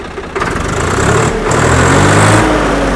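A Swaraj 855 tractor engine kicks in after a brief pause and settles into a steady, loud rumbling idle that continues to the end.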